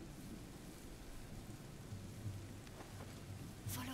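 Steady rain falls in the video game A Plague Tale: Innocence. It makes a soft, even hiss with a low rumble underneath, quiet and constant throughout, with no talking.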